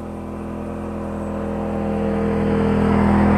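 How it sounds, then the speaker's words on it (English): A dune buggy engine idles and slowly passes, a steady low humming drone with tonal bands that grows gradually louder and nearer, no talking. "I can't believe he's idling through here with a dune buggy."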